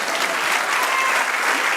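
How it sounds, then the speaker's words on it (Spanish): A church congregation claps in a dense, steady burst, loud and close, filling the room for a couple of seconds. "Den un aplauso al Señor"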